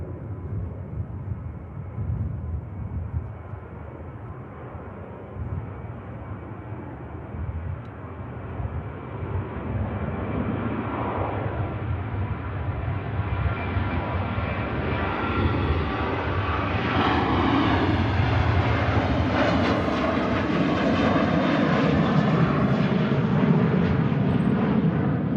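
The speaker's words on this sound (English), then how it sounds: "I do have an aircraft on the approach now, so the Virgin Atlantic just waiting patiently there." A Virgin Atlantic airliner on approach at Manchester Airport produces a steady, broad jet-engine roar that slowly swells louder and closer over the whole span, with no voices.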